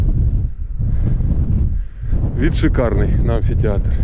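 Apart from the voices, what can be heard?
strong wind blowing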